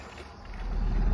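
A camper van fords a shallow river about 30 cm deep in Serbia, with a low rumbling wash of water and engine noise that builds steadily louder toward the end, no talk.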